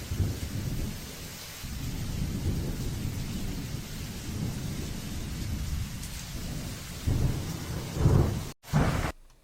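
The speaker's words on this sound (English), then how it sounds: "It sounded more like hurricane thunderstorm weather" Thunderstorm with heavy rain pouring steadily and deep rolling thunder rumbling throughout, swelling into louder close claps near the end, no voices.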